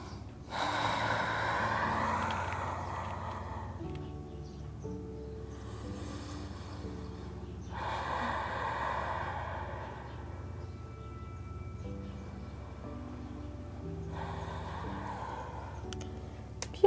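Deep, slow breaths during a yoga hip and leg stretch, three long audible inhale-exhale cycles spaced evenly, close and soft over a faint background of quiet music.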